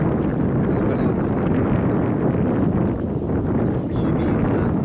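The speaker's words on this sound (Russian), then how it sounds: "ветер так и не утихает" Heavy, steady wind roars and buffets without a break, a dense broadband rush that fills the whole stretch.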